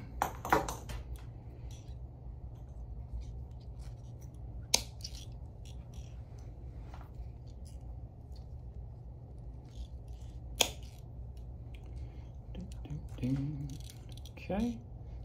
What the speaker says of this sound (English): we're gonna just snip it